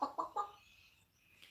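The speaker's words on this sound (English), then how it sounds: "I hear chickens." Chickens cluck in three quick, fairly close bursts, then fall quiet, with faint background hiss and no talking.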